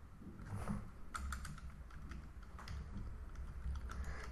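Numbers typed on a computer keyboard while entering values into an Excel chart, a quiet run of light, irregular key clicks close by with low background hum.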